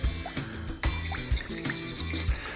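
Grapeseed oil trickles softly into a bowl in a kitchen, a gentle continuous pour under a steady musical background.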